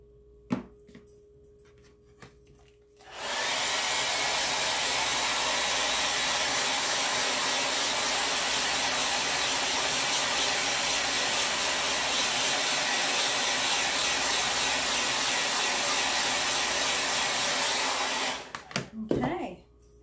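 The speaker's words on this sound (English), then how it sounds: "blow dry it just a little bit" A hair dryer blows steadily on a handmade wooden craft sign for about fifteen seconds, loud and close, starting abruptly and cutting off near the end, with a few soft handling knocks before and after.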